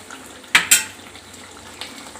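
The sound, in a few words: stirring tomato egg curry in a pot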